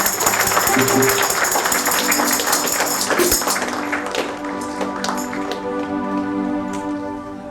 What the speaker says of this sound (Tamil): கை தட்டலாமா?